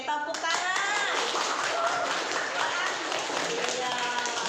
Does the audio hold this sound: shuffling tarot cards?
no